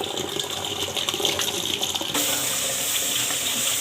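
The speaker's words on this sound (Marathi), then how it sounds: "कारले छान पाण्याने आपण दोन तीन पाण्याने छान धुवून घेऊया" Bitter gourds are washed under a running tap, making a continuous loud gush of water that grows fuller and steadier partway through.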